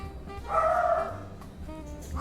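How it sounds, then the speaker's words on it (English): A pet dog barks faintly in the background of a room, one short muffled bark with a harmonic yelp, fairly distant and alone without talk. "Excuse my dog in the background."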